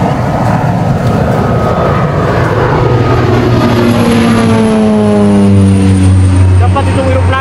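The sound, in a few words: military drone or aircraft flying overhead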